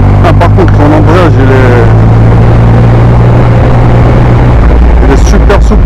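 A 2020 Yamaha MT-09 with an Akrapovic exhaust and quickshifter rides hard and close, its loud engine note climbing and breaking through quick, crisp gear changes amid steady wind roar.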